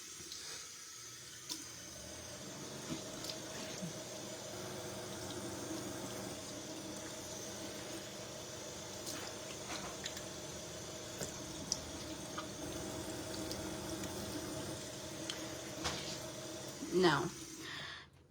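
Tap water runs steadily into a bathroom sink while someone rinses their face, a continuous moderate splashing stream with a few small knocks and a louder splash near the end as the water is turned off.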